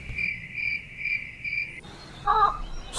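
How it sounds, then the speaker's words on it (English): Cricket chirping in a steady series of short, regular pulses for most of the clip, then stopping as a brief different chirp sounds. "cricket,"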